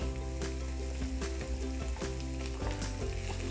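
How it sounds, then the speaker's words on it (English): Fresh shrimp frying in a pan for fried rice, a loud steady sizzle over a low hum, with a few sharp stirring scrapes, no speech. "So I'm gonna add my shrimp in now."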